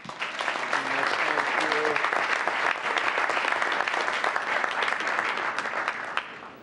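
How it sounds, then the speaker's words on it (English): A council chamber audience gives a sustained round of applause, many hands clapping steadily at moderate level, with brief voices mixed in early on before the clapping tapers off at the end. "please give them a nice big round of applause"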